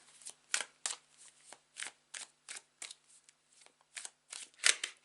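A deck of tarot cards is shuffled by hand in quick riffling bursts, about a dozen crisp flutters in a loose rhythm, close and fairly quiet with no voices.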